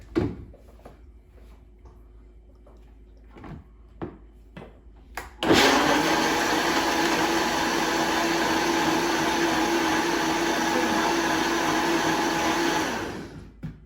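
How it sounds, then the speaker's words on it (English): After a few soft knocks and clatters, a blender blending salsa verde roars to life and runs loudly and steadily for several seconds before winding down. "Welcome over to the blender."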